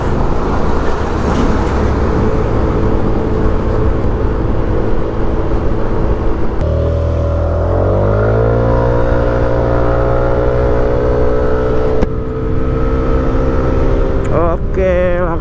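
An automatic scooter engine with a noisy CVT drones loudly, then its pitch climbs smoothly as it accelerates, with a steady whine continuing and a brief shift near the end.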